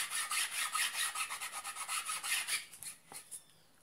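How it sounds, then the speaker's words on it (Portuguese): Sandpaper rubs a fabric edge in quick, rhythmic back-and-forth rasping strokes, close and steady, then slows to a few separate scrapes at the end. "Tecido vai saindo, tá vendo? Só passar lixo."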